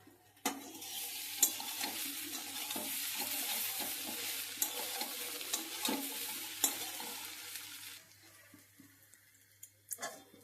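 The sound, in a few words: soybean chunks frying and being stirred in a pan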